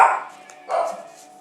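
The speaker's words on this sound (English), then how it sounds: "If my dogs are interrupting tonight" Pet dogs bark indoors in two short, close bursts separated by a brief pause, loud and sharp against a quiet room.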